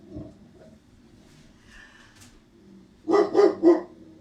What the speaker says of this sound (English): There we go, doggy again.